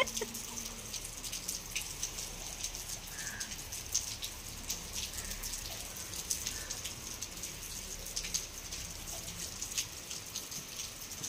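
Steady rain falls in a soft, even patter with scattered drips, faint and continuous throughout, with a bird's call faintly audible now and then.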